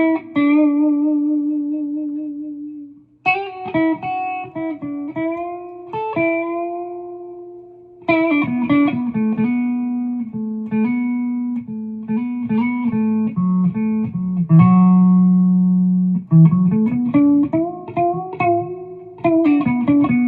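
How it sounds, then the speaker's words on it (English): Gibson Les Paul Standard electric guitar played with all knobs at 10: a series of plucked notes and chords ringing out with clear harmonics, some sustained, some short and choppy, loud and alone without speech. "it's just it's a beautiful sounding guitar."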